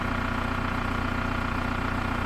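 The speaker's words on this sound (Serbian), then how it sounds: "Čekamo da se ugreje motor" A warming-up Audi A4 2.0 TDI diesel engine idles with a steady, even drone and a faint rhythmic pulse. It sounds close and constant, with no voices.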